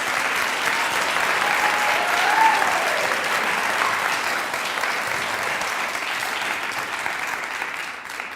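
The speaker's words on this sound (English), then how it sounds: "Let's give our Bards a round of applause." A crowd claps steadily, a dense burst of applause that holds, then slowly thins and fades toward the end.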